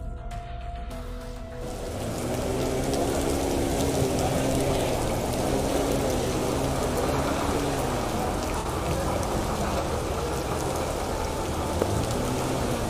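Heavy rain pours steadily at an outdoor protest site on the Delhi border, a loud, dense hiss that swells in after a brief quieter start and holds constant, with faint low hum underneath and no talk.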